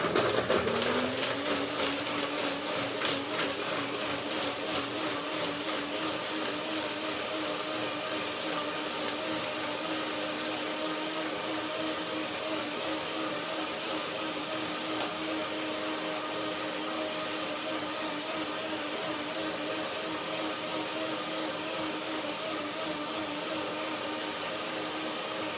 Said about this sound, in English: So I only need a little bit of water to get this dressing blender going.